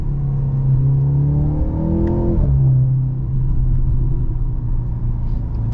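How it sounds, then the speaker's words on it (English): A 2023 Mercedes-Benz C43 AMG with a 2.0-litre turbo engine and multi-clutch transmission accelerates hard, its loud engine rumble climbing in pitch, dropping sharply at a gear change, then droning on steadily, heard from inside the cabin. "And the way how this thing accelerates is just amazing."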